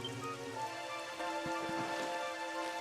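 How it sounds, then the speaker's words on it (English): Rain in the video game Dragon Quest XI patters as a soft, steady hiss of falling drops, faint and continuous, with a sustained musical tone running beneath it and no one talking. "It's only raining."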